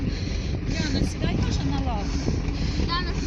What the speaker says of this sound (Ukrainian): трактором їдемо МТЗом